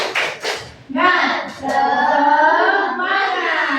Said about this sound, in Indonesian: Ice breaking, tepuk semangat.